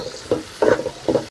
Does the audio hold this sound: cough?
no